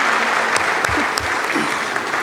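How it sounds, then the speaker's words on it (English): Dense, steady clapping from a conference audience thanking a panel at an Afreximbank 30th anniversary event in Accra, a continuous wash of many hands filling the room with a few louder claps standing out. "A huge round of applause for our panelists."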